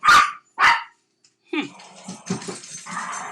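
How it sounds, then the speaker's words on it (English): Puppies nearby give two sharp barks, then a pause, followed by whining and small growly yips as they play. "my puppies are playing."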